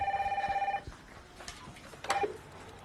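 A telephone rings with a bright electronic warble, one long burst and then a brief second one, close and clear, followed by quiet room noise.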